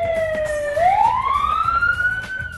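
An ambulance siren wails loud and close in a steady rising tone, joined by a second siren tone above it, with no talking.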